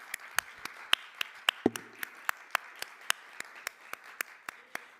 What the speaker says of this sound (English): let us honor you with a round of applause